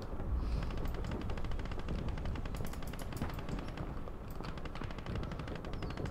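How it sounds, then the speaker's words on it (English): Mortar fire heard within a dense Gates of Hell: Ostfront battle, where continuous rapid gunfire and distant booming blasts keep a constant, heavy rumble going throughout. "And now I hear a mortar."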